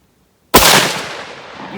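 A single loud, close Mosin-Nagant rifle shot fired at a clay target outdoors cracks sharply after a brief silence, then its report decays slowly across the rest of the moment.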